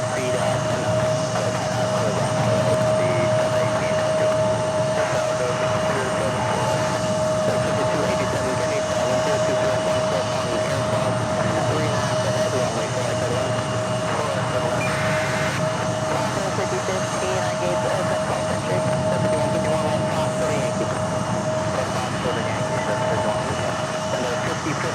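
A Delta Air Lines Boeing 767-300ER takes off at JFK airport, bound for Copenhagen, heard as a steady, sustained broadband jet roar at constant loudness for the whole stretch, with a persistent whine running above it.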